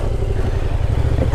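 A Yamaha MT-07 motorcycle on its first ride, with a steady low engine rumble and a dense mechanical clatter running loud and close throughout the short stretch.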